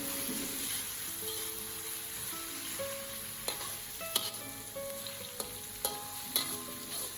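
Onions and shallots sautéing in oil in a pan, a steady soft sizzle with occasional sharp clicks and scrapes of stirring, heard close and without talk.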